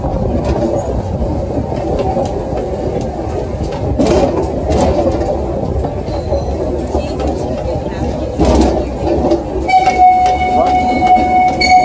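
A zoo train rolls along steadily with a low rumble and rattling cars, voices chattering nearby, and a brief whistle or horn tone near the end.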